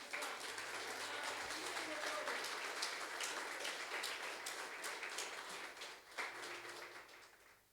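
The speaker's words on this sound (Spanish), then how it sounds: "Dele otro aplauso al Rey." A church congregation applauds during a special worship service, a fairly distant, soft wash of many hands clapping that dips briefly, then swells again before fading out near the end.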